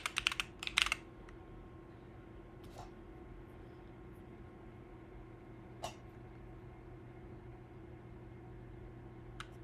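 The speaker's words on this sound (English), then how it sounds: "Mechanical keyboard" Keys clack on a mechanical keyboard, starting with a quick cluster of sharp close presses. Sparse isolated taps follow over a steady low hum.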